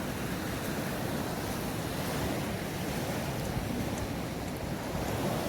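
Steady, continuous roar of surf breaking on a beachfront hotel shore at Juan Dolio on the Caribbean coast of the Dominican Republic, broadband and unbroken, with wind across the microphone and no voices.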